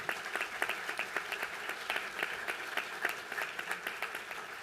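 An audience in a conference room applauds steadily, many close hands clapping in a dense, continuous patter at an even level throughout.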